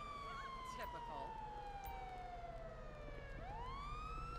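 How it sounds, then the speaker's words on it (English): Police car siren in GTA V with the LSPDFR mod, a loud, continuous wailing tone that sweeps slowly downward and then rises again, steady throughout with engine and traffic noise beneath. "I'm gonna get my siren shut off."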